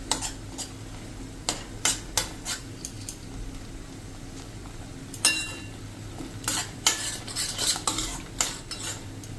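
Tomato puree with cluster beans cooking over a low flame in a pan, with repeated sharp scrapes and clinks of a spoon stirring against the metal at an irregular pace, close and moderately loud over a quiet background.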